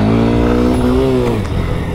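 Honda NX 200 motorcycle riding off-road, its engine revving loud and close with a rising then falling pitch as the rider works the throttle; no voices.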